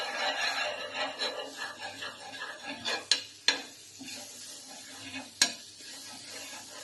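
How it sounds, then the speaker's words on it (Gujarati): Butter sizzling on a hot nonstick tawa, a steady close crackle with a few sharp scraping knocks of a utensil against the pan. "તો અહીં આપણો ટવો ગરમ થઈ ગયો છે હવે આપણે એમાં બટર મૂકીશું"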